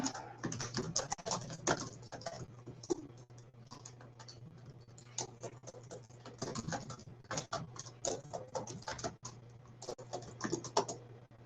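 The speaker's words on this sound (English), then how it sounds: "I'm just gonna type in the chat box." Keystrokes clatter on a computer keyboard as someone types a message into a chat box, a close, uneven run of rapid clicks with brief pauses over a faint steady hum.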